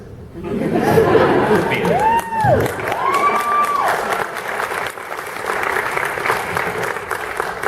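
A fan-convention panel audience at DragonCon in Atlanta breaks into loud, dense applause mixed with cheers and crowd chatter, and a speaker's voice rises briefly over the clapping.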